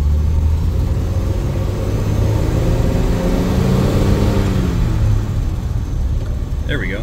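Original 1948 DeSoto Deluxe with Fluid Drive running steadily with a low, continuous engine drone and road rumble while driving, a gear change not clearly distinct; no talk over it.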